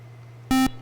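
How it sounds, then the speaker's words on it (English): A quiz-game buzzer from a high school scholastic bowl team match gives one short, loud electronic beep against quiet room hum, with no talking. "we got actually musical punctuation from the buzzers"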